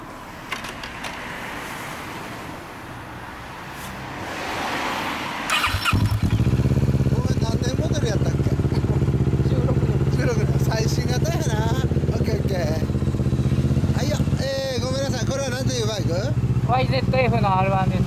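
A Kawasaki Ninja 650 motorcycle fitted with an Akrapovic exhaust starts up and settles into a steady, close, loud idle with a few revs, while people talk over it.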